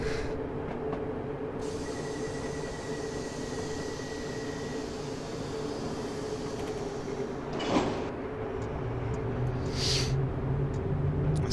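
A London Underground D78 Stock train pulls in at Stamford Brook in a freeware train simulator game, with a steady rolling rumble, a faint high whine partway through and a few sharp hissing bursts near the end, and no talking.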